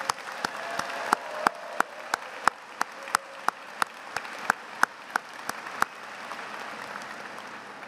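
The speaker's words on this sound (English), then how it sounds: "let me start by asking for a round of applause for our mothers and for our parents and grandparents" At a Duke University economics graduation ceremony, the audience claps in a sharp, evenly spaced rhythm of distinct claps over a soft crowd wash, then eases off near the end.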